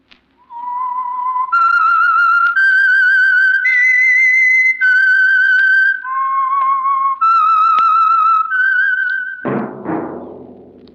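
A clear, loud whistled melody of held, wavering notes that step up and down, ending with a sudden noisy thump.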